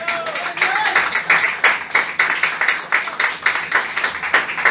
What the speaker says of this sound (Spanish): Denle ofrenda de palmas al Señor